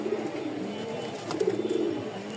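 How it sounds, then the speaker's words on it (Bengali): A pair of tiger pigeons of the Rajshahi high-flying giribaz kind coo close by. A soft rolling coo swells midway over a low, steady background. "1500 টাকার মধ্যে এক জোড়া টাইগার কবুতর দেখাই, খুব সুন্দর একটা পেয়ার।"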